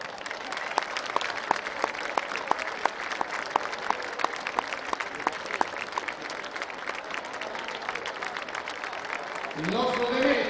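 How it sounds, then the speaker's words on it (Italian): An audience claps steadily throughout, the applause greeting a champion, with a voice rising briefly near the end. "Applauso."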